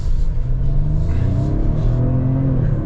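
Ford 2.3-litre four-cylinder in a 2025 Explorer ST-Line, revving loudly and close with a deep rumbling growl that swells briefly, heard alone without talk.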